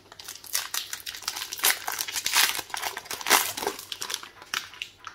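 A Lorcana trading card booster pack wrapper is torn and crinkled open, producing continuous close, loud crinkling and rustling bursts of plastic foil, uneven and busy throughout, with no talking.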